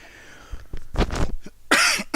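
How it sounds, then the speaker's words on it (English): A person coughs several times in short, harsh bursts close to the microphone, with brief pauses between them. "coughing my way through the early parts of the game"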